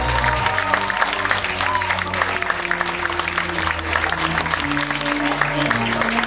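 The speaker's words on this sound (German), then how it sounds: "bitte mit einem finalwürdigen Applaus" An audience at a poetry slam final applauds continuously and loudly, a dense wash of clapping with crowd noise over low background music.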